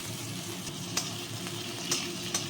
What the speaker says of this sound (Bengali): এই দেখুন ঝিঙেটা আর আলুটা ভেজে নেবো